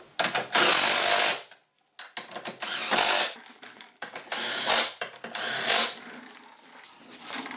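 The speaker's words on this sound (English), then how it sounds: "Now I'm just going to start them with the impact" An impact wrench runs in several short whirring, rattling bursts with brief pauses as it starts bolts on a Steeda trailer tie-down kit for a 2015-2020 S550 Mustang.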